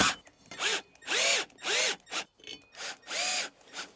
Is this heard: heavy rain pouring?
no